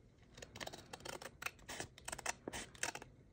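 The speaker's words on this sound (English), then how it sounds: "trying to be straight, which is not something I'm very good at with a pair of scissors" Close, crisp snips and rustles as a pair of scissors cuts along a paper envelope, a ragged series of sharp clipping strokes over about three seconds with no talking.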